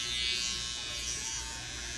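A steady electric buzz from a hair trimmer removing excess hair around a hairline, running continuously at close range, fairly quiet, with no voices.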